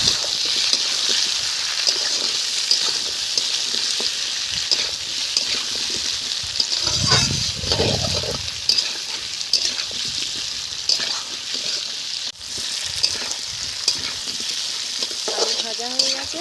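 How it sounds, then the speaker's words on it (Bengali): Potatoes sizzle continuously in a pan of oil during a village-style fish curry cook-up, with a steady hiss broken by scraping stir strokes and occasional bubbling, heard close up and fairly loud throughout. "আলু ভাজা হয়ে গেছে, এখন মশলাগুলো দিয়ে দেবো"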